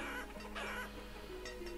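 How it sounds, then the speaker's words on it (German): Brief clucking of chickens from the video game Banished, a few short squawky calls layered over a steady background hum. "Hühner ohne Ende."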